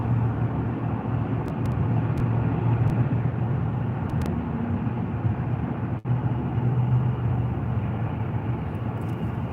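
Steady low rumble of a car creeping along in slow traffic in the early morning, a constant near drone of engine and road noise with one brief dip, no talking.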